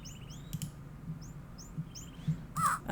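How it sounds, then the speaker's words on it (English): Birds chirp in short repeated calls among trees in the King's Quest IV video game, quiet and spaced out, with a few soft clicks mixed in and a brief louder chirp near the end. "You hear birds chirping from the many trees."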